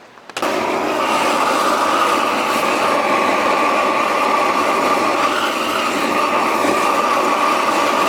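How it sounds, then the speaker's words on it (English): A torch roars steadily into the oil-soaked baffles of a Honda Cub EZ90 motorcycle muffler, a constant loud hiss and rumble that starts abruptly and holds without pause. "we're taking this torch to it now and we're burning all the oil out of the baffles in here"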